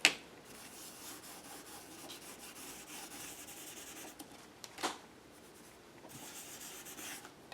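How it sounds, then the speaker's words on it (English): Stabilo colour rubbed from felt onto a paper cut-out piece, a faint, steady soft scratching and rubbing close by, with a couple of brief louder scrapes. "And then I'm just going to rub some color on my piece."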